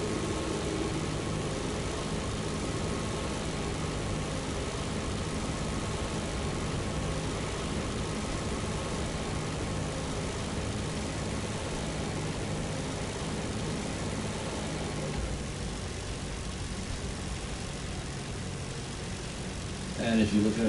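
Steady, even drone of a plane's engine while flying in a video game, continuous and unchanging throughout, with a short clatter at the very end.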